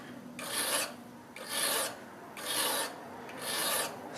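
A file rasping along the bevel of a small micro carving chisel, four even strokes about a second apart, close and fairly quiet, with no talking.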